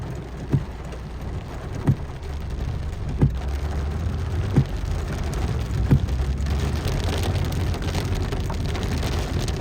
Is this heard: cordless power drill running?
no